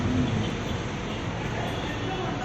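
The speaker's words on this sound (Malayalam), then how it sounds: "അതെ മെട്രോ ഓടും." A Kochi Metro train runs along its track, a loud, steady broadband rumble and rush that lasts throughout, with voices faintly present underneath.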